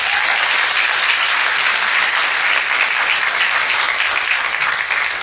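Steady, dense applause from a banquet audience at a high school cross-country team event, loud and sustained throughout without a break.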